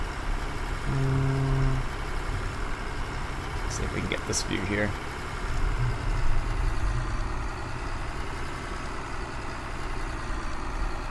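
A tractor engine idles in Farming Simulator 17 with a steady low rumble that holds throughout. Someone talks over the engine noise.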